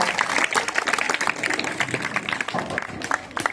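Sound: applause for the winning group

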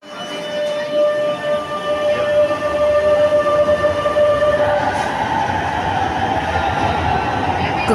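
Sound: Milan metro Inverter 8101 train arriving at station

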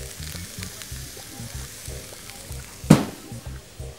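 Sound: beefsteak frying in a pan

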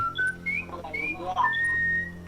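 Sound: character whistling in Serious Sam 3 video game

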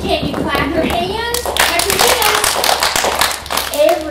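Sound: children clapping hands

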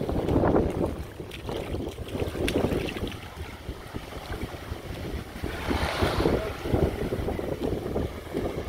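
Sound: gusty wind

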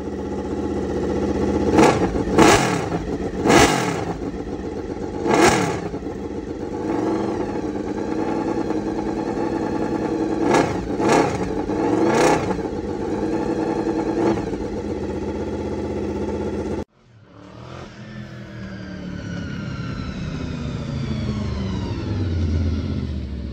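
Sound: motorcycle engine revving

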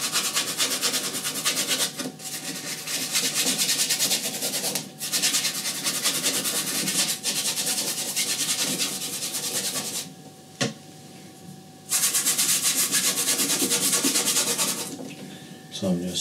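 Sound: paintbrush scrubbing oil paint onto canvas

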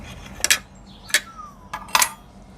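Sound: clattering of a metal tray or dishes

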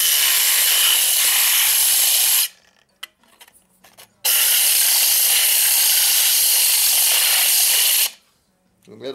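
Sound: aluminum bottle end polished against spinning grinder wheel

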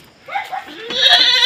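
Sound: goat bleating

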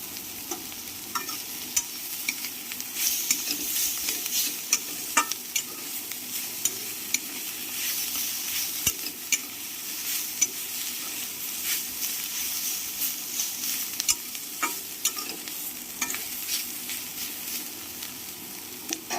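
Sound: frying prawns in a pan

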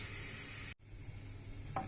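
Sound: stirring vermicelli toasting in melted butter in pot

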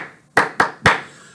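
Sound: hands clapping a rhythm in time with a pulse

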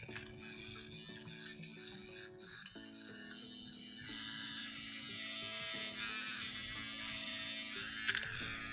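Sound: Manscaped Weed Whacker nose hair trimmer running

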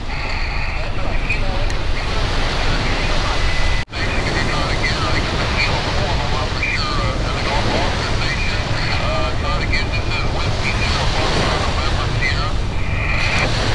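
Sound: waves on a beach

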